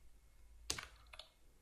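Typing on a computer keyboard while entering code, a short quiet burst of a few clicks followed by a couple of fainter keystrokes.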